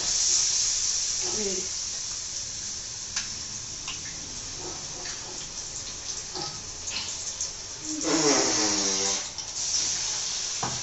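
Chili bajji fritters sizzling in hot oil, a steady close hiss with faint bubbling and crackle throughout, while a person speaks intermittently over the frying.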